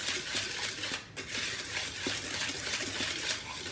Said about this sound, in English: You can simply do it with your whisk like I just did.